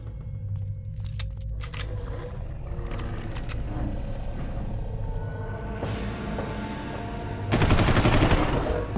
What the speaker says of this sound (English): Oh, the shotgun.